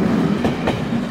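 IC3 intercity train passing at Aarhus Central Station, a loud close rumble of rolling wheels with a couple of rhythmic clacks over rail joints.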